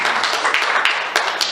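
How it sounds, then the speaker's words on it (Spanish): Church congregation clapping for the Lord, a brief burst of many hands applauding together, close and fairly loud with uneven individual claps. "Denle un aplauso al Señor."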